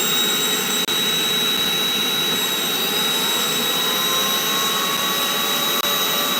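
A Rainbow canister vacuum cleaner's motor runs steadily with a loud, constant high-pitched whine and airy roar, close and unbroken throughout.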